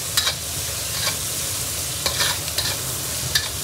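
Sichuan peppercorns and star anise stir-fried in a wok, with steady crackling sizzle and a few sharper scraping strokes of the spatula, close and continuous with no talking.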